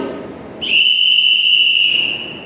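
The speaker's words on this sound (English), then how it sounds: "Sound of whistle." A whistle with a small ball inside gives a single loud, steady shrill blast of about one and a half seconds, close by and alone.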